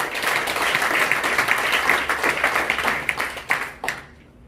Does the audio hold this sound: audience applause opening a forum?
yes